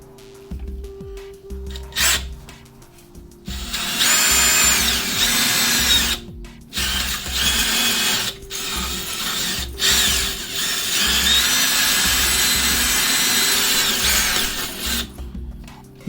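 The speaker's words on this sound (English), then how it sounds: "I'm going to use this attachment, drill attachment, and see if I can knock off a little bit more of this rust" A power drill with a wire brush attachment grinds loudly in several long bursts, scraping harshly against rusty metal on a Glacier Bay wall-mounted faucet, with short pauses between runs.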